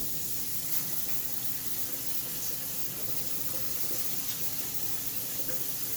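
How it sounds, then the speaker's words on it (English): Water from a kitchen tap runs steadily over hamburger meat being rinsed, a constant hissing splash with no break. "Because yes, I do rinse my hamburger meat, y'all."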